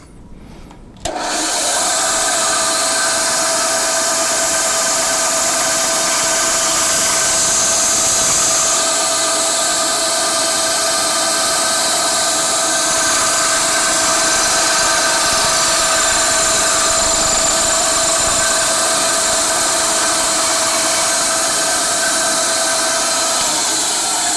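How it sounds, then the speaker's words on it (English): A bandsaw trims the end off a horn being prepared for turning, its steady whine and cutting noise running loud and continuous with no pauses after a brief quiet start. "trying to use this bandsaw, is just trim that end off"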